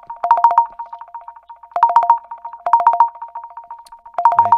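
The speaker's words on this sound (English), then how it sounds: "That's how my work phone calls come in." A work phone rings for an incoming call, loud and close: an electronic ringtone of quick repeated trilling pulses in bursts of about a second, separated by short gaps, with no talk.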